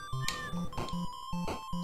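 A cat meows in short, squeaky calls, several in quick succession, fairly faint against a background with a steady tone and light clicks.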